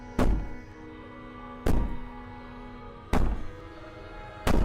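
Heavy booming bangs on a door in the video game Slay the Princess land four times at a slow, even pace, each a loud deep thud with a ringing tail.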